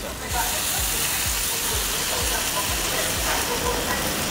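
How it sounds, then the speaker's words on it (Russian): Salmon fins and vegetables grill over a tabletop BBQ, giving a constant loud sizzle and hiss with low rhythmic thumps beneath. "Не знаю уж, как вот эти будут жариться сквозь плавники."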